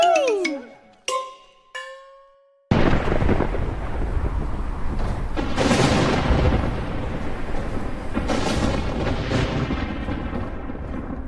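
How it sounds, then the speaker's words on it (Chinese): Thunder crashes in loudly after a few short ringing tones, then rolls on as a long, continuous rumble with swelling peaks. "总是打雷下雨，这样的鬼天气，可真是让人燥得很。"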